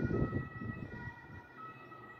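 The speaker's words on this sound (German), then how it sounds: "RTW-Wagen war das gewesen." A faint German ambulance siren wails steadily in the distance, its tone holding under low rumbling background noise.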